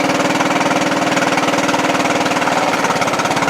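The engine of a Craftsman LT1000 lawn tractor runs steadily at idle, a loud, close, pulsing chug that shifts slightly near the end as the tractor is put in reverse, with no voices.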